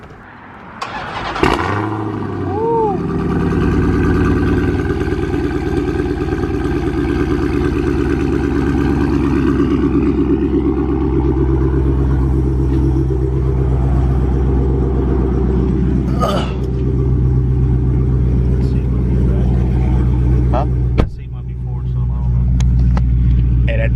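Dodge Charger Hellcat with catless midpipes idling, a loud deep rumble holding steady for over twenty seconds after a brief start, close to the car, with a short dip and someone talking over it.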